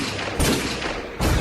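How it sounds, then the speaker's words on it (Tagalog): Two sharp gunshots boom out, the first after a short pause and the second near the end, each a loud broadband blast with a brief decaying tail over a rough background. "Anya dagit siya putok."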